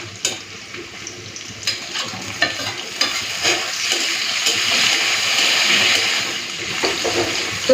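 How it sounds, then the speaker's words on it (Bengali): Shrimp coated with salt and turmeric fry with browned onions in a pan, giving a steady sizzle that swells midway, with repeated stirring scrapes and no voices. "তো পেঁয়াজের সাথে সাথে চিংড়ি মাছটাও ভাজা হয়ে গেছে।"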